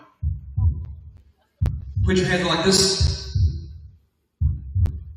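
A heartbeat sound effect thumps in paired low beats, repeating steadily, while someone talks over part of it.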